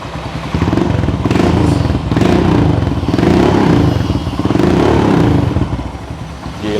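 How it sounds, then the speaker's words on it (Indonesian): A single-cylinder Royal Enfield Himalayan motorcycle with a racing exhaust idles and revs loudly up close, its deep, choppy thump rising and falling steadily throughout. "perubahan dari mesin nggak banyak, cuma dikasih knalpot racing aja"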